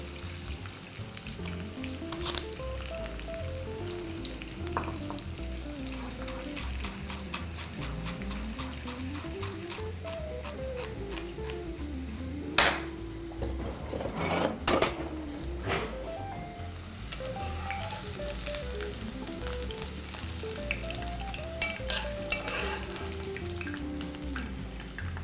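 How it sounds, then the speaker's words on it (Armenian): A soffritto of diced celery, carrot and onion fries in a pan with a steady sizzle throughout, under background music with a wandering melody and a couple of louder clatters midway. "սոֆրիտոն դա նեխուրի, գազարի և սոխի խառնուրդն է տապակած վիճակում"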